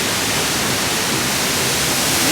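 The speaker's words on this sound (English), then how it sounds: "We made it to the waterfall." Nungnung Waterfall in Bali, a loud, constant broadband roar of falling water filling the whole stretch without a break.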